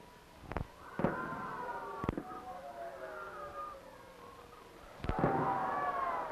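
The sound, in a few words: fireworks display exploding at 1965 Negaunee centennial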